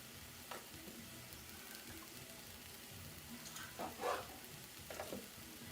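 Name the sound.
meat sizzling in a pan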